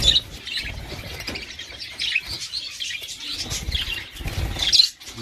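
Budgerigars kept four pairs to a cage chirp and twitter restlessly, close and lively, with scattered bright calls and light rustling and fluttering.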